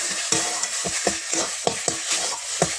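Kharkol leaf paste with homemade ground spices frying in a pan and stirred in brisk, regular strokes; each scrape rises over a continuous close sizzle, with no talking.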